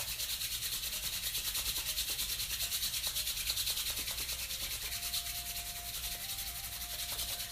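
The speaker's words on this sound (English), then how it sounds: "Now you're going to take your hands and you're going to rub it really, really fast." Palms rubbed together rapidly and continuously, giving a steady, close, dry friction swish with a fast even rhythm that holds for several seconds without talk.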